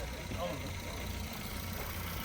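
A used car, a 2014 model running on gas, idles at a car market in Urganch, a steady low engine rumble close by with busy market noise around it.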